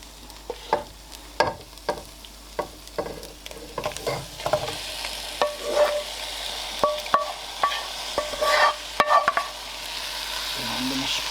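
Egg biryani sauce sizzling in a pan with repeated stirring scrapes, soft frying hiss steady underneath and a rhythmic series of clinks and scrapes, close and moderately loud with no talking.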